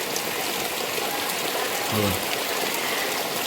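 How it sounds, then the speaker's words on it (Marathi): Steady rain hisses evenly throughout in a village, with a brief spoken word partway through. "गावाला पाऊस पडतोय"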